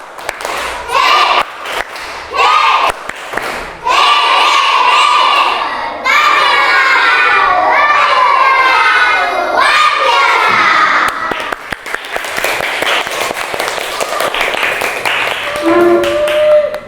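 A fourth-grade class of schoolchildren performs a rhythmic clapping chant, loud patterned claps mixed with shouted, chanted voices and a teacher's voice, close and lively throughout.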